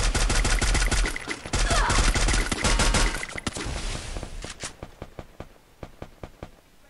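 Rapid bursts of gunfire in the video game Free Fire crackle loudly for several seconds, then thin out into sparser, sharp single shots with a sizzling background.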